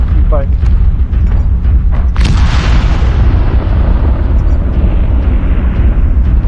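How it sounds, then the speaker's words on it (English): Artillery strike in a mech warfare video game, a heavy booming explosion that bursts loudly and rolls into a long rumbling decay over continuous low battle noise. "Artillery strike activated"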